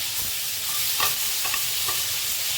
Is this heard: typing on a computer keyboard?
no